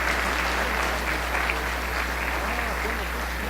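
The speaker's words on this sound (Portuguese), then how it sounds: "Você pode dar uma salva de palmas por esses queridos aqui?" Church congregation breaking into steady applause, a dense wash of clapping that holds evenly from start to finish, moderately loud with a constant low hum beneath.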